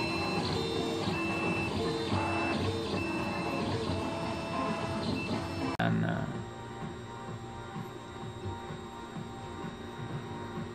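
A 3D printer printing a plastic car part runs with a continuous whirring, whining motor hum full of shifting stepper tones. Partway through the tone changes abruptly and the printer settles into a lower, steadier drone.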